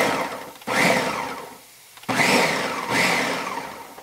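A food processor pulses a shrimp filling in two motor bursts of about a second and a half each, each whirring up sharply and then easing off, with a short quiet gap between them.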